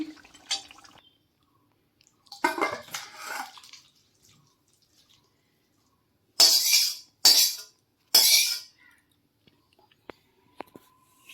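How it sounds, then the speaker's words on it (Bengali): Cooked jackfruit and prawn curry is poured and scraped from a pot into a serving dish in a few short, wet, sloppy bursts, with quiet pauses and a faint clink near the end. "তাহলে চলুন আমি রান্নাটা ঢেলে নিচ্ছি"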